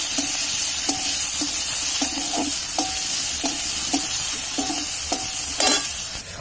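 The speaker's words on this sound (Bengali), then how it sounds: "এবার পেঁয়াজগুলোকে ভেজে নেব" Onions fry in oil in a home kitchen, a loud, constant sizzle broken by regular, rhythmic scrapes and taps of a spatula stirring the pan.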